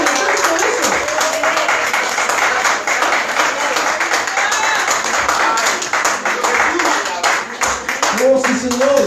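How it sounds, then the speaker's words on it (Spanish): A church congregation at a Spanish-language service claps loudly and continuously, with voices calling out and music-like tones rising over the dense crowd clapping. "Denle un aplauso a Dios"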